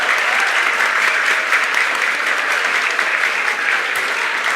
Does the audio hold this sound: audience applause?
yes